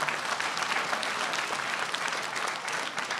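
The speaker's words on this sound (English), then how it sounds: "Let's give them a round of applause." Sustained applause from a town hall audience, a dense, even wash of many hands clapping at steady volume with no talk over it.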